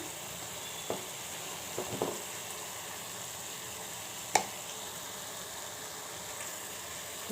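Sliced bitter gourd curry with turmeric, chili powder and salt frying in oil in a village-style home kitchen, a steady sizzle with a few sharp clinks and scrapes of the stirring spoon against the pan.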